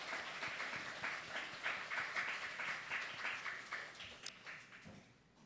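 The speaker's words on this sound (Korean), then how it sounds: "우리 김종국 어르신 나오셨기 때문에 우리 박수 한번 치겠습니다." A church congregation applauds an elderly member who has come to the service, faint, steady rhythmic clapping that swells and then fades away at the end.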